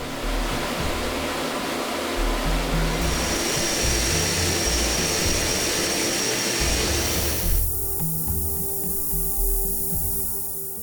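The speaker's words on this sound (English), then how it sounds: "Press it from all four sides, switch out the dies." A forging press squeezes a welded knife billet, giving a loud, steady roaring hiss with low mechanical rumble that cuts off sharply near the end, leaving a quieter hum with faint ticking.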